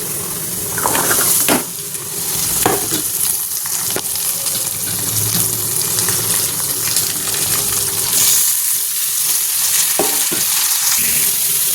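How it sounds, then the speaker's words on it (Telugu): Onions with tomato and carrot frying in a pan for a capsicum curry, a loud continuous sizzle broken by scraping stirs and clinks of a spatula, no talk. "ఆనియన్స్ అయితే మగ్గిపోయాయి వేగాయి ఇంకా టొమాటోను క్యారెట్ వేసుకుంటానండి"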